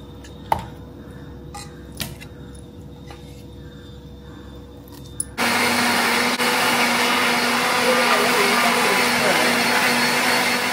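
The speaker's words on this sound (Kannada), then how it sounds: "ಇವಾಗ ಇದನ್ನು ಒಂದ್ಸರಿ ನುಣ್ಣಗೆ ರುಬ್ಕೊಂಡ್ಬಿಟ್ಟು ಇದರ ರಸದಲ್ಲೇನೆ ನಾವು ಬನ್ಸಿ ರವೆನ ರುಬ್ಕೋಬೇಕು." A kitchen mixer grinder blends cucumber with soaked bansi rava. It opens with a quiet stretch of a few clicks and knocks, then the motor switches on halfway through and roars loudly and steadily until the end.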